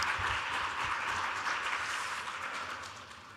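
A church congregation of young adults claps to welcome the pastor, a dense steady patter of many hands that fills the room and slowly fades toward the end.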